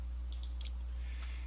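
A few sharp mouse or button clicks on a computer sound in quick succession, crisp and close over a steady low hum.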